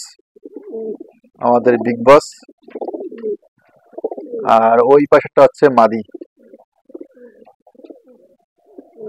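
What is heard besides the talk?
Bagh bakom pigeons cooing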